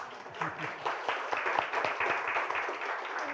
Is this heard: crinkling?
no